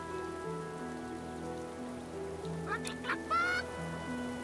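Ducks quack in a few short, nasal calls near the end, heard in the Divinity Original Sin II video game over steady rain and a soft background drone.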